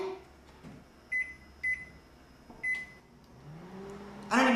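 A running microwave oven hums quietly and steadily, broken by three short, clear beeps, followed by a brief louder clatter at the end.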